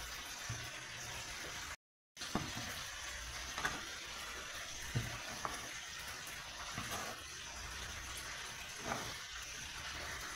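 Bullet tuna (tulingan) fries in a pan with a steady, soft broadband hiss, broken by a few faint pops and clicks and a brief dropout near the start; nobody speaks.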